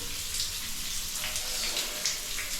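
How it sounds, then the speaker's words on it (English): A shower faucet in an apartment rental in Angeles City, Philippines, runs with strong water pressure, giving a steady loud hiss and splash of water that continues throughout without any talking. "Check the water pressure of the shower."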